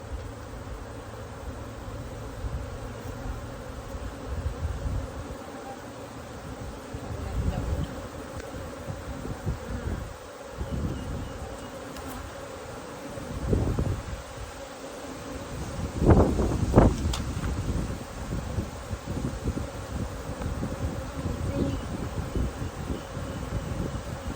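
Forager bees streaming back into a busy hive at midday, a continuous buzzing hum that swells in several louder passes as bees fly close by, with light wind noise.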